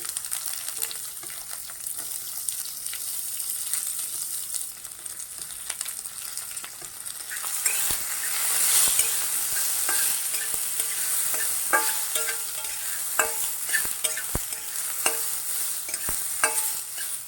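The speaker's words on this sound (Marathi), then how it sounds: "आता आपण याच्यात कांदा भाजून घेऊया" Sliced onion frying in a pan of hot oil with cinnamon, star anise, cardamom, cloves and black peppercorns, a steady close sizzle with scraping stirs and clinks of a spoon, growing louder midway.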